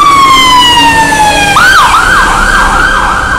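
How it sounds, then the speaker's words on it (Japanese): A loud fire engine siren wails close by at Oxford Circus, London, starting as a steady high tone and then shifting into a rapid rising-and-falling yelp over constant traffic rumble. "消防車だ。"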